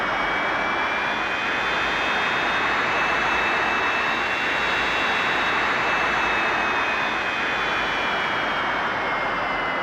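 Loud, steady jet engine roar from a rocket-building video game, a broad continuous rush with a faint high whine running unbroken throughout, no talk over it.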